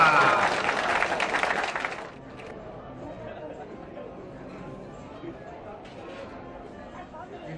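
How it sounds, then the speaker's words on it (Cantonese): An audience at the twelfth anniversary ceremony of a Hong Kong Wing Chun association applauds a kung fu master's demonstration in a burst of dense clapping. The clapping stops after about two seconds, leaving a murmur of crowd chatter and talk. "俾啲掌聲！"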